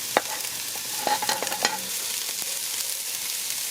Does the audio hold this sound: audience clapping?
no